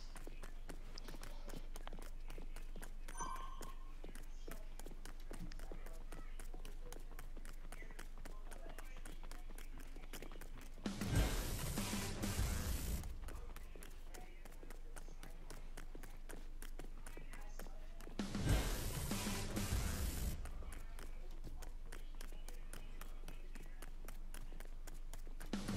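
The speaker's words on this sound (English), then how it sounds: "I can hear the footsteps." Rapid, even footsteps from the Fortnite video game run and walk as a steady ticking rhythm through the whole stretch, broken twice by loud bursts of noise.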